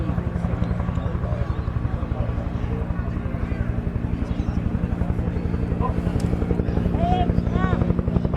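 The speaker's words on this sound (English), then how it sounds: "the famous Waka Waka, it's a 2-bladed rotor system" A Vietnam-era Huey helicopter's two-bladed rotor beats out a loud, steady rhythmic thump over turbine whine, with someone talking over it throughout.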